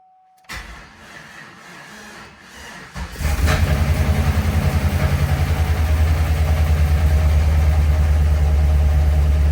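A truck with a 6L engine cranks and catches, then settles into a loud, steady idle with a rhythmic low chug that stays constant after a quieter lead-in of cranking and clatter.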